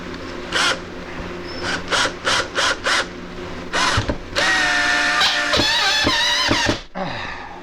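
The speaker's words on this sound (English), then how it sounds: "This drill sucks." A power drill whirs in repeated short bursts during overhead ceiling drywall work, then runs in a longer, louder stretch of whining revs before stopping.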